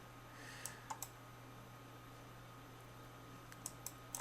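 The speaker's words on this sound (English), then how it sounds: "And I'm just going to start clicking" Several sharp mouse clicks while selecting a mask in Photoshop on a computer, scattered in small clusters near the start and end over a steady low electrical hum, with no talking.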